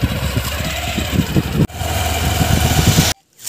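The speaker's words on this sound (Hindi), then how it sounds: "पापा बाइक लेके रेडी हैं चलने के लिए" A motorcycle engine runs near at idle, a loud steady rumble with rough low pulsing that breaks briefly once and then cuts out abruptly at the end.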